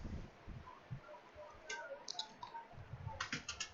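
Clicky typing on a computer keyboard while writing Visual Basic code, bursts of quick close key taps mixed with low muffled bumps, fairly faint.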